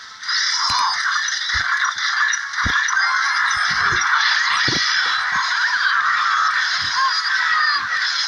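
The Mini P.E.K.K.A hitting a tower in the mobile game Clash Royale, a steady harsh raspy cawing-like noise running throughout with scattered sharp thumps and clicks underneath.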